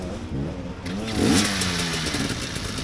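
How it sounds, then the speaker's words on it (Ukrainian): Up close, an enduro motorcycle engine revs hard on a rough hard-enduro course in Zhytomyr, rising in pitch to a strong peak mid-clip before it settles back to a steady, uneven drone. "Мотик їде майже без драйвера"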